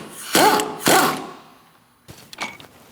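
Removing a bolt from the transmission mount of a 2012-2020 Chevrolet Sonic 1.8L L4: two loud, close whirring mechanical bursts in a row, then a pause and quieter rattling and clicking.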